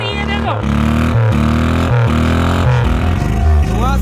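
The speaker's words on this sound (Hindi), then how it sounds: "बाइक की तरह आवाज आ रही है" A car cut apart into two sections idles and revs in the open with its engine exposed, giving a loud, buzzy, motorcycle-like drone. The pitch steps up and down several times as the throttle changes.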